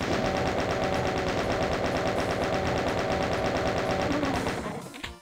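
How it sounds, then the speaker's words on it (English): Doom's chaingun fires a steady, rapid stream of rattling shots for several seconds, loud and unbroken, before cutting off and trailing away. "Right, we'll just use the chain gun."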